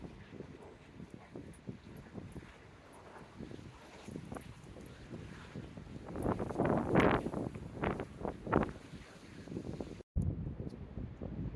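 Breezy wind buffets the microphone on a bridge cycle path, a low steady rumble that swells and gusts louder in the second half, with a brief dropout near the end and no clear talking.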